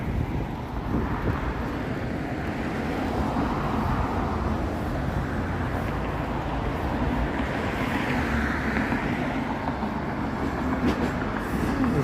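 A Toronto subway train passing near Yonge Street during an outdoor morning walk, heard as a steady, broad rumble mixed with wind and street noise, continuous and fairly loud throughout with no talking.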